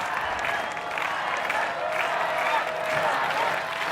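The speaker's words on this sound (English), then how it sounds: "I was starting to hear the crowd" A large crowd at an American Ninja Warrior competition roaring and clapping continuously, a dense wash of cheering that holds steady at a loud level.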